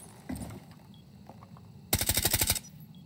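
Game gunfire from Rainbow Six Siege: a short early burst, then a rapid automatic volley of about eight shots, fairly loud and close, with no talk.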